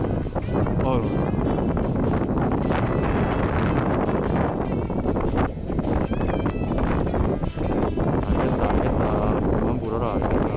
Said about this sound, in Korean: 이런 바람에는 사실 장사가 없습니다.